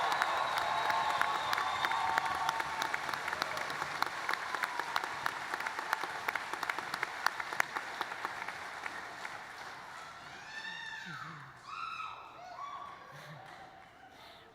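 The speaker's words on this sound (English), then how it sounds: "let's give our graduates one final round of applause" A commencement crowd at SIUE's spring graduation gives the graduates a final round of applause: loud, sustained clapping with some cheering that gradually thins out after about ten seconds, leaving scattered claps and high chirping sounds.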